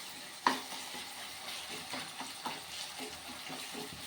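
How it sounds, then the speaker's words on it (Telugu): Tomatoes frying in oil under a lid for a fish curry, with a steady soft sizzle and crackle throughout, a sharper pop near the start, and no talking. "చూడండి టమాటాలు మనకి ఈ విధంగా వేగుతున్నాయి"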